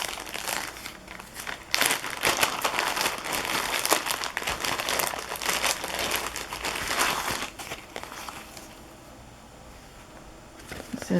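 A plastic bag of thin grosgrain ruffle-lace ribbon crinkles and crumples close by in steady, busy handling, then quiets toward the end.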